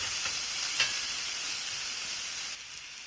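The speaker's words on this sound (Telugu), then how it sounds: "అంత కొత్తిమీర కూడా ఫ్రై అయిపోయినట్టుంది" Coriander leaves fry in a pan for tomato chutney, giving a steady, fairly close sizzling hiss that runs unbroken for a few seconds, with one brief sharper crackle and a slight drop in level near the end.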